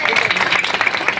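An audience applauds after a mimicry act with a dense, steady burst of clapping that fills the short moment at fairly loud level.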